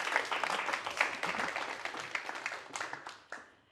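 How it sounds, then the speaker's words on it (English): Audience applause for a special guest at an urban farming event, dense clapping throughout that thins and fades out toward the end. "a warm applause for our special guest today"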